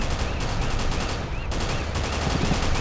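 Rapid gunfire from weapons aimed at the Witch in Left 4 Dead 2, sounding as dense, continuous bursts of shots throughout, loud and close with faint game ambience beneath.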